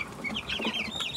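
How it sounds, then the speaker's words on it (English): A rooster on a ranch clucks in a quick series of short, throaty notes, close and fairly loud, with no talking. "I think this guy's my rooster right here."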